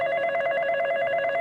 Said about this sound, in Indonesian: Ini, oh ini nih ada yang telepon.